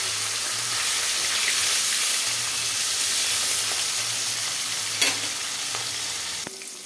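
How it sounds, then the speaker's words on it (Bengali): Hilsa fish fries in hot oil with its second side down, an even close sizzle that runs steadily, with a couple of sharp clinks from a utensil toward the end and no voices. "আর এক পিঠ ভাজবো"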